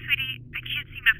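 A telephone rings in the horror game Granny with a bright, warbling electronic trill in short repeated bursts, broken by brief gaps, over a low background hum.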